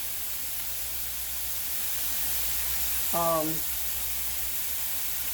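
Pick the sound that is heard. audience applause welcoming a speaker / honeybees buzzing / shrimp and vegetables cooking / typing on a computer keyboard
shrimp and vegetables cooking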